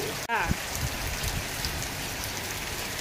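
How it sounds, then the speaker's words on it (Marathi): Heavy rain pours in a dense, steady roar, with a brief rustle and a short voice-like sound near the start. "हे जेवढा आवाज येत आहे ना तर तेवढा पावसाचाच आहे."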